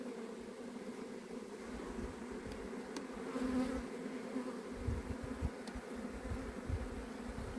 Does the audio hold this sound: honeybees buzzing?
yes